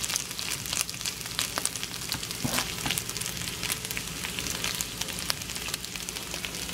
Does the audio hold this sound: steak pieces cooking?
yes